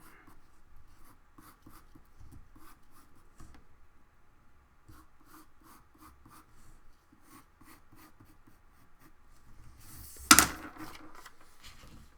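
A pencil scratches a monster's horn onto paper in faint, close, rhythmic strokes, ending in one sharper, louder scrape near the close.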